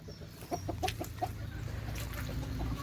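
Several short clucks from hens, irregular and moderately close, over a steady low background hum.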